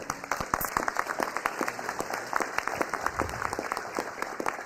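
Audience applause at a city council meeting, steady dense clapping of moderate loudness with individual sharp claps standing out, alone without talk.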